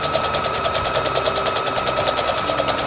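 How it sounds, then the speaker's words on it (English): Sewing machine stitching close to the edge of a fabric coffee cosy, a steady rapid whirring rhythm running continuously and close up, with no talking. "I'm going to sew quite close to the edge"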